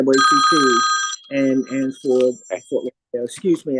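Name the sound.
mobile phone ringing during meeting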